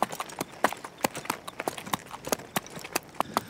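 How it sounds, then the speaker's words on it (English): Horse hooves clip-clopping steadily on a ride along a haunted highway, a brisk regular rhythm of sharp close knocks with faint background noise and no talk. "It'd be a pretty good idea to get there on horseback."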